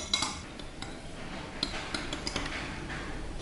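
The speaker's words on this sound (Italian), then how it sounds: "e mescoliamo." A spoon stirs green tea steeping in a pitcher of hot water, light clinks and taps against the container over a soft steady background.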